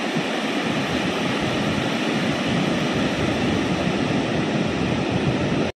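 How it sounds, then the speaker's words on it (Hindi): Water rushing steadily toward a shoreline where the surf reaches up the beach, a loud continuous broadband wash with no break, rolling on without pause until it cuts off at the very end. "और पानी देखो कितना तेज़ी से आ रहा है"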